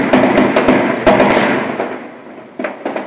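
Fireworks bursting in rapid irregular crackles and pops, loud and fairly close, with a cluster of sharp bangs at the start, a fading tail, then a fresh burst of crackling near the end.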